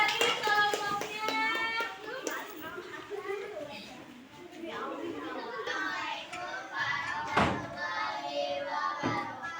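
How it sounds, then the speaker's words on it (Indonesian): Children in a classroom clap their hands in scattered bursts, mixed with chatter and children's voices, close and moderately loud. "Oke, tepuk tangan."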